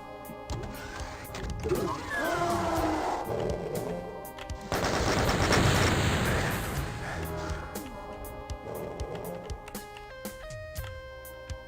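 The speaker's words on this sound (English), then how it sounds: "Got a shotgun. The good old-fashioned boom." Weapon fire in the 1993 game Doom, a roaring blast of gunfire that dominates the middle for a couple of seconds, surrounded by lighter game effects and a steady electronic soundtrack.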